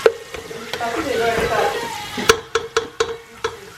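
Butter sizzles in a hot pan with a soft continuous hiss, punctuated by several sharp clicks and taps of a utensil against the pan, close and fairly loud.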